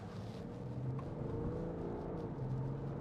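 A 2016 BMW 530d M Sport Touring's 3.0-litre diesel engine accelerating, heard from inside the cabin as a steady, close, low drone with no talking over it.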